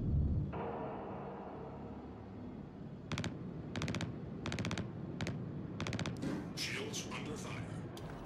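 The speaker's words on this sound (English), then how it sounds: "Are they shooting us from the ground?" Gunfire from the ground in the Star Citizen space game comes in several short, rapid automatic bursts spaced a second or so apart, fairly faint, over a steady low ship hum.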